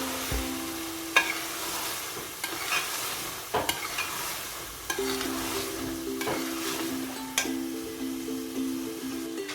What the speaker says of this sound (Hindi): अब इस पॉइंट पे हम इसमें सब्ज मिर्चें डालेंगे और अच्छा सा मिक्स करेंगे।